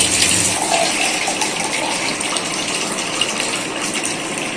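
A strong, steady gush of water into a pot, loud and close, with a continuous broadband rush and no gaps.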